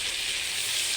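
Spice paste of ground garlic, ground cumin, salt and turmeric frying in a pan, giving a steady close sizzle and hiss with no break and no voices.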